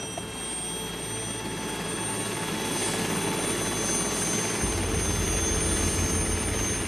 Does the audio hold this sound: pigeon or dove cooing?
no